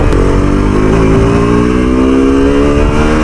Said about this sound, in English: Somehow the bike is not starting.